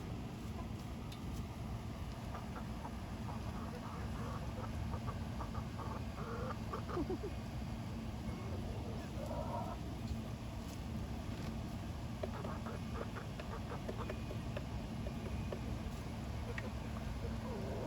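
Backyard hens cluck in scattered, faint bursts over a steady outdoor background hum, with occasional short calls spread across the whole stretch.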